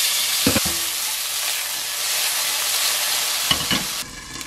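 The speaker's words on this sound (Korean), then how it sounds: "이렇게 한참 있으면은 지글지글 익는 소리가 나거든요" A tomahawk steak sizzles in a covered frying pan, giving a steady, loud hiss of frying fat across the whole stretch, with a couple of brief knocks or lid movements near the start and end.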